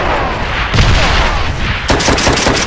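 MP40 submachine gun firing in Call of Duty: World at War, loud close bursts of rapid automatic fire with a brief pause between two volleys, no talk.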